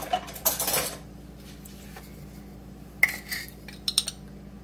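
A spoon clinks against a small bowl as sugar goes in, with a cluster of bright metallic taps at the start and a few sharper clinks later, close and fairly quiet, with no speech.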